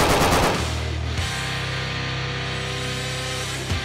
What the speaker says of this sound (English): Machine guns are pretty cool